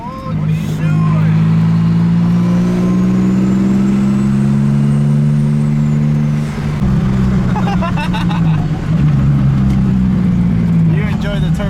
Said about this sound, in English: You enjoy the turbo noises way too much.